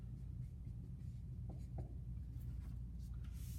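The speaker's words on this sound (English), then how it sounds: "which I'm going to write here" A pen writes on paper while a calculus free-response problem is worked through, making faint, soft scratching strokes in a few short bursts over low background hum.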